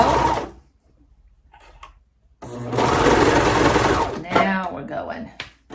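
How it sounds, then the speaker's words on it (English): A serger sewing machine stitches fabric seams in short, fast whirring bursts, loud and close, with a pause between runs, and a person talks in between. "I'm just gonna serge them straight through."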